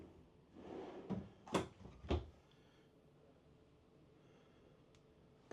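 A few short wooden knocks and slides as drawers are pulled open and pushed shut, three distinct bumps close together, then quiet room tone.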